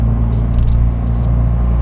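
A car accelerating flat out on a race track, heard from inside the cabin as a loud, steady low engine rumble with faint rustling on top.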